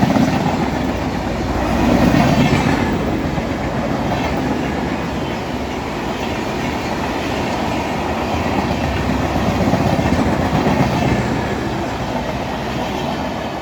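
An express train hauled by a Ghaziabad-shed WAP-7 electric locomotive rolls past at speed, a loud steady rumble with rhythmic wheel clatter over the rails throughout, swelling slightly near the start and again later.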